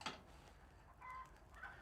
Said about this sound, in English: Sounds like one of my chickens is laying.